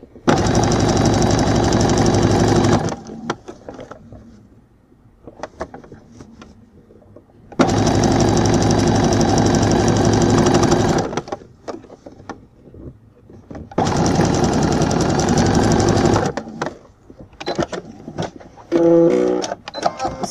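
Sewing machine stitching gathers and smocks with a simple zigzag stitch on fabric, three long loud runs of rapid whirring separated by quiet pauses with small handling noises.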